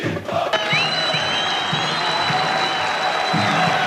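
A crowd of about 2,000 Fluminense fans fills the Laranjeiras ground at the last training session, with sustained cheering and crowd noise throughout and some scattered clapping.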